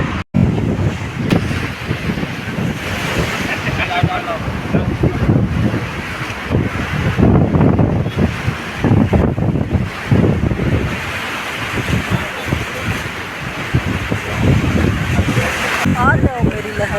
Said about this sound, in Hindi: ओहो, वो आ रही है भाई एक और भागती हुई लहर।